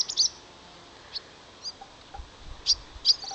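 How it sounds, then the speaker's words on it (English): Swallows flying past over a wooded summer dene give short, high, thin chirps in scattered bursts, faint and at a slight distance, against quiet outdoor background. "Oh, the swallows are just going right past."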